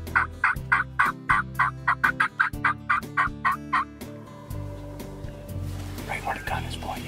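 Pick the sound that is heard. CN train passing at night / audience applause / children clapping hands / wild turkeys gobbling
wild turkeys gobbling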